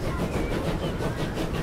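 A train in Transport Fever 2 pulls into the main station hall, giving off a steady, continuous rumble with rolling clatter from the rails throughout, and no voices.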